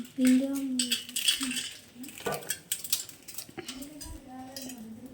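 Maggi noodles are dropped into a cooking pot at home, giving close metallic clinks and rattles of utensils and cookware, with voices talking intermittently.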